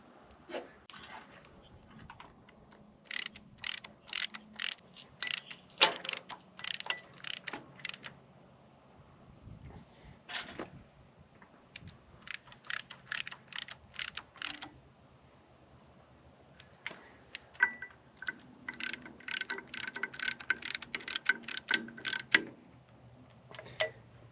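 Hand ratchet clicking in quick bursts while tightening anti-seize-coated nuts onto 7/16 studs of a compressor bracket on a 1977 Ford Highboy engine, several runs of rapid ticks separated by pauses, close and clear with no talk.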